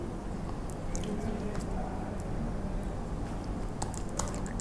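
Soft, irregular keystrokes patter on a computer keyboard while a file name is entered, close by and continuous over a low background hum.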